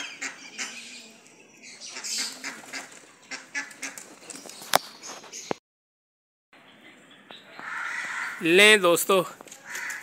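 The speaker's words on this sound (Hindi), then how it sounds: "दोस्तों तीन चीलें आ गई हैं और जो है ना एक कौवा है।" A crow caws outdoors with black kites nearby, harsh calls breaking in around someone talking, with a louder burst of calls toward the end.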